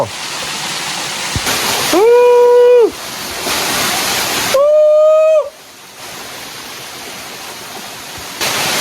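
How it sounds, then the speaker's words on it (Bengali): Rushing water of the Silbunia waterfall on Marayang Tong hill roars as a loud, steady broadband wash that cuts in and out, with two brief high whistling tones rising over it. "ঝর্ণা তো দেখলেনি কেমন সুন্দর"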